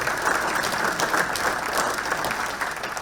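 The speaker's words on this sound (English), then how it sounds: "We can applaud for my mom." A hall of fame audience at Alter gives dense, continuous applause for the inductee's mother. Many hands clap at once in a steady, full wash of sound with no pauses.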